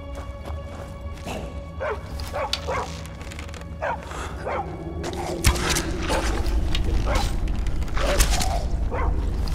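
A dog barks repeatedly in the Skyrim Special Edition video game, a series of sharp bow-wow barks at uneven intervals over game ambience and rumbling combat noise, with no talk.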